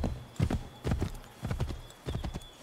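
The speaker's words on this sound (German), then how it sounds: "Was ist denn das für ein müdes Pferd?" Hooves clip-clop in quick galloping bursts from a horse in the video game Assassin's Creed III, four loud clusters of thudding beats close by with no talking.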